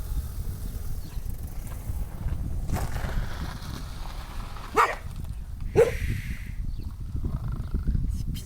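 Two distant dog barks, about a second apart, rise briefly over a steady low outdoor rumble.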